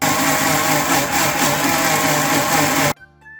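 A mixer grinder blends wheat flour, jaggery and banana in its jar, a loud, steady whirring roar that cuts off abruptly near the end, leaving a faint hum and small clicks, with no talk.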